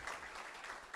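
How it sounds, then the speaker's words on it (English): Audience applause at a youth entrepreneurship challenge event: a brief, faint burst of many hands clapping from a crowd. "Another round of applause."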